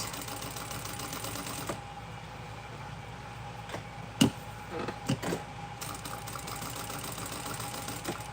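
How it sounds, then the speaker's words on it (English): A sewing machine basting fabric runs in a steady, quiet mechanical whir, with a few sharp clicks and thumps in the middle of the stretch, no talking. "And I'm basting this on right now."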